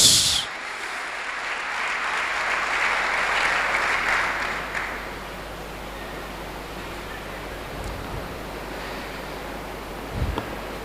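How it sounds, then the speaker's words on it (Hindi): A church congregation bursts into loud, sustained applause honoring Jesus Christ, a dense wash of clapping that swells for several seconds and then fades into a quieter roomy hush. "यीशु मसीह के लिए जोरदार तालियां"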